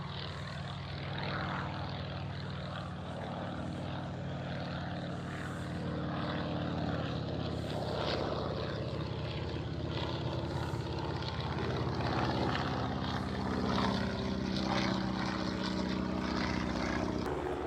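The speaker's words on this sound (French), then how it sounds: "Là, c'est le Bristol F2, qui est un chasseur biplace qui était aussi utilisé pendant la Première Guerre mondiale." Bristol F2 two-seat biplane fighter from the First World War, its propeller engine droning steadily overhead at an air show, a continuous loud hum that swells slightly toward the end with no talk.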